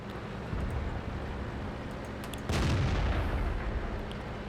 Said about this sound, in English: The artillery is super busy right now.